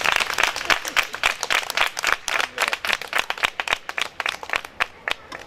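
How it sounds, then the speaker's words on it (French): Audience in Benin at a Christmas event clapping in a loud, steady burst of applause with scattered sharp claps, close and continuous throughout. "Il faut acclamer."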